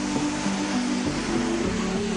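A constant rushing roar of falling water, broad and steady, with a faint voice humming beneath it.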